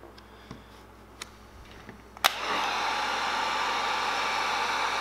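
A heat gun blows a steady, loud hiss of hot air onto vinyl graphics on a Traxxas Slash RC truck body, starting abruptly after a few faint ticks and clicks and holding constant to the end.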